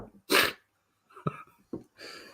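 A single sharp sneeze bursts out near the start, followed by soft sniffs and breathy sounds close by.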